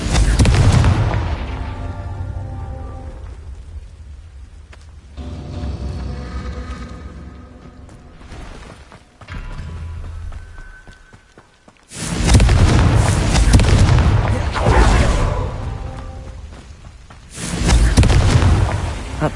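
In Hogwarts Legacy, the Confringo explosive spell sets off a series of heavy, booming blasts, each with a rumbling tail, coming in separate bursts spaced several seconds apart.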